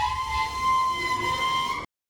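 A metre gauge train at Bilkha railway station sounds a steady, sustained whistle over a low rumble, holding for almost two seconds before cutting off abruptly into silence.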